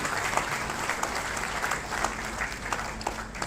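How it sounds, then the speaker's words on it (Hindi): Applause at a university ceremony welcoming the state governor of Jharkhand in Hazaribagh, moderate steady clapping from a gathered audience heard from a distance with a faint room hum beneath. "आप तालियों से उनका अभिवादन करें।"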